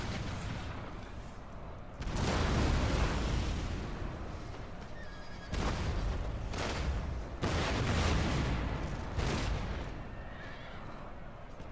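Cannon artillery fire in the video game Napoleon Total War, several heavy booming salvos in separate bursts over a battle din, with horses whinnying among the blasts.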